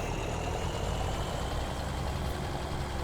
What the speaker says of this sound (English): Takes a bit of time to warm up this tractor.